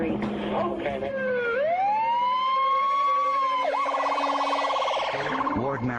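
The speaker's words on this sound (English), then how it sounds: "We need an ambulance." An emergency siren rises and holds a loud, steady wail, then switches to a rapid yelp, sounding close amid a reported shooting on a reserve, with a voice briefly audible underneath.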